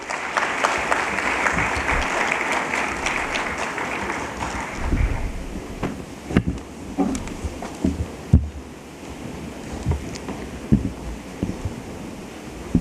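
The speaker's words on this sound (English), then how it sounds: "Let's welcome him with a huge round of applause" Audience applause at an HR conclave welcomes a panelist to the stage, a dense clapping wash for the first six seconds that thins into scattered individual claps and taps.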